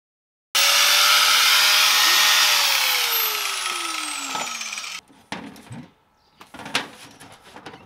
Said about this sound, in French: C'est une meuleuse là. Oui, une meuleuse,